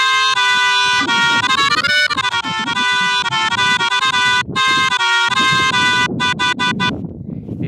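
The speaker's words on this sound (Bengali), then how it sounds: "আর এখানে হর্নটা আমি ইউজ করেছি" A horn sample in an FL Studio Mobile music project plays loud, sustained brassy notes in a melodic phrase, then ends in a run of short, clipped stabs.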